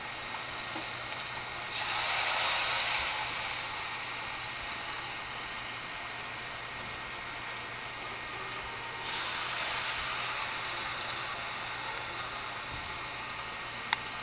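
Batter-coated sweet filling dropped into hot oil, fried bhajji-style, sizzling steadily and close, with two louder bursts of crackling hiss as pieces go in.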